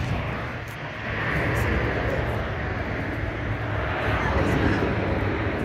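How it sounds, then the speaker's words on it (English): Airplane flying overhead, a broad steady engine roar swelling after the first second and holding, heard outdoors beneath people talking. "You see the plane?"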